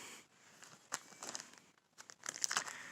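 A plastic bag holding rubber washers crinkles and rustles softly during the unboxing of a Casio CT-S410 keyboard, with irregular bursts of crackling that rise and fall at close range.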